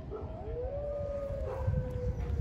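Dogs howling at Karjala Park in the Republic of Karelia, Russia, a long wavering howl rising and falling over a steady outdoor background, moderately loud and somewhat distant.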